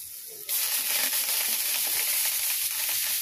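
Greens tossed into a hot pan hit the oil with a sudden loud burst of frying, then settle into a steady, close, crackling sizzle with no voices over it.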